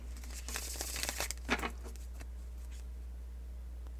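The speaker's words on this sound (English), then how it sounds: "Last shuffle." A deck of tarot cards is shuffled close by, a quiet burst of riffling and crinkling paper clicks in the first half that trails off into faint hiss, with no talking.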